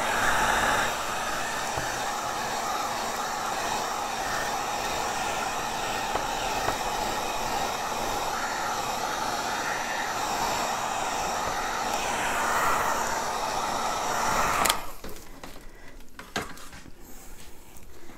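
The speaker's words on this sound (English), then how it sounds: "I'm going to torch or heat gun this for a minute." Heat gun blowing steadily on a plastic mayonnaise or mustard lid, a constant loud rushing whir that carries for about fifteen seconds and then cuts off, leaving quieter handling noise.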